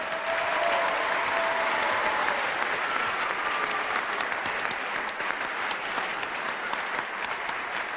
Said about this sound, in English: how about a big round of applause for 2 fine professional wrestlers